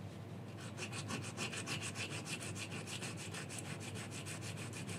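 A metal T-800 endoskeleton arm part is wet sanded by hand in fast, even rubbing strokes, about five per second, soft and close throughout, with no talking.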